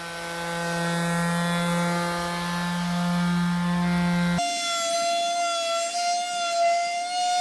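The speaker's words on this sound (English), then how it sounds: "I did some scuffing with my circular sander, and I'm just going up in grade" A circular sander works over an old dresser during progressive grit sanding, a constant loud whirring drone that abruptly shifts to a higher, thinner tone partway through, close up with no talking.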